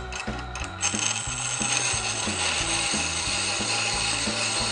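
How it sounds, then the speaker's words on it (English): A Tormek sharpening stone turns while a diamond truing tool, locked on the support bar, grinds the warp out of its face, giving a steady mechanical whir with regular ticking, ratchet-like pulses close by. "all we're doing now is removing the warp out of the stone and making it parallel to the support bar."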